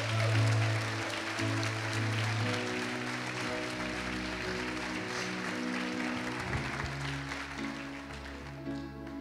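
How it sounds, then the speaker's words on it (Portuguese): A church congregation applauds during a service, a steady wash of many hands clapping with sustained music tones underneath, tapering off slightly toward the end. "Você podia aplaudir o Senhor por causa disso."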